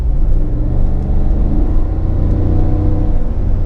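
A 2019 GMC Yukon Denali with a 6.2 liter V8 accelerating hard on an open road, a loud, deep, steady engine roar heard from inside the cabin without speech.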